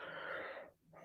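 A single drawn-out human yawn, breathy and airy, sustained for most of a second before trailing off and resuming briefly, close and fairly loud with no talking over it.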